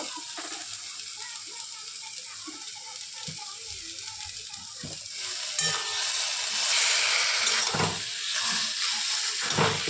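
Pre-fried shrimp dropped into a hot pan of taro leaves: a continuous frying hiss that swells louder partway through, with clattering utensil clicks and a voice speaking over the first half.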